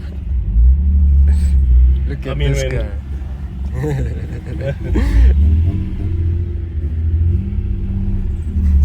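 A VR6 car engine fitted with a GT35 billet clone turbo idles and rumbles with a deep, steady low drone close by while several people talk over it.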